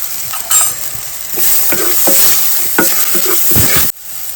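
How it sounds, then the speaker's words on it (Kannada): Tomato with chili powder and turmeric fries in a pan, steady close sizzling broken by repeated scraping stir strokes, ending abruptly near the end. "ಈಗ ನೋಡಿ, ಟೊಮೆಟೊ ಇಲ್ಲಿ ಚೆನ್ನಾಗಿ ಫ್ರೈ ಆಗಿದೆ."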